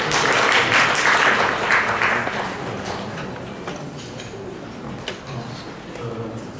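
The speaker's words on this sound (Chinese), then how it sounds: "那我们就把握时间我们热烈掌声欢迎" A university lecture hall audience applauds warmly to welcome a lecturer; the clapping is loud for the first two seconds, then tapers off into quieter room noise.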